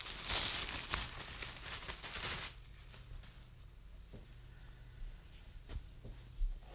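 Plastic packaging from Xbox FanFest swag bag items crinkles loudly and densely for about two and a half seconds, then gives way to quiet handling with a few soft taps and rustles.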